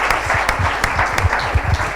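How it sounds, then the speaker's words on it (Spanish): Church congregation applauding during a Sunday service, a loud, steady wash of clapping with rhythmic thumps underneath, sustained throughout. "Dale un aplauso al Señor"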